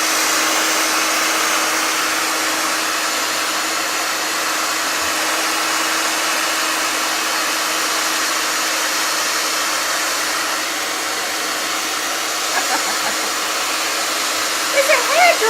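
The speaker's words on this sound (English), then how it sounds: "It's a hairdryer, Ruby." A hair dryer running on low heat during Halloween special-effects makeup, a loud steady whooshing hum close to the mic that stays constant, then shifts slightly near the end, with no voices.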